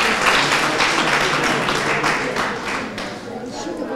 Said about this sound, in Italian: Io farei un applauso già solo per il lavoro fino a qua